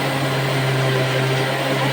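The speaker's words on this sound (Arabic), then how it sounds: "افصل بس اولع الخلاط عشان ما اعملكوش ازعاج" A blender runs at a steady, loud whir with a constant motor hum, unbroken from start to finish and with no voices.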